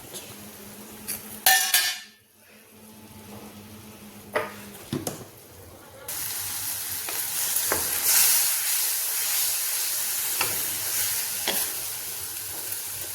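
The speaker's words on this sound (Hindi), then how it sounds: "अब हम डाल देंगे टमाटर।" Tomatoes drop into a hot pan for a healthy home recipe and sizzle steadily. Scattered clinks and stirring come first, then a loud, continuous frying hiss takes over with no talking.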